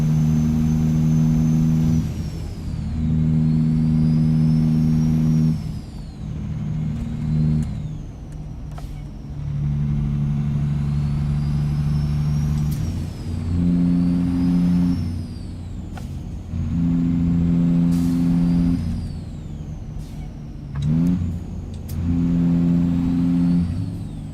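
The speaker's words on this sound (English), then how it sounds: "it's not overly rattly, it's not overly noisy, it's just kind of suits the chillness of the truck." A simulated truck engine drones steadily while driving, loud and close, its pitch stepping up through several gear changes with brief dips and hisses between shifts.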